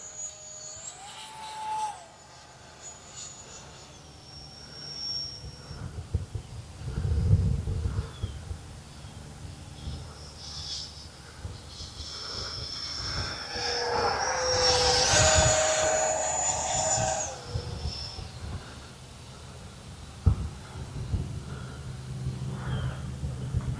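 A small RC model jet, an Arrows L-39 Albatros with a 50mm ducted fan, whines overhead, its pitch rising and falling as it passes, louder near the middle, with gusty wind noise throughout.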